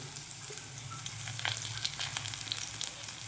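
A spoonful of ginger paste fries in a pan along with ground coriander, cumin, fennel, chilli and turmeric, a faint steady sizzle with small crackles and spits close by, no one speaking.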